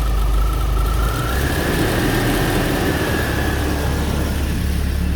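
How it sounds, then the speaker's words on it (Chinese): An old car that has been sitting for years idles with a low, steady engine drone, and a faint irregular ticking or knocking sits under it. The sound stays close and even throughout, with no talking. "就是这种声音，有啪啪啪的声音，有没有？"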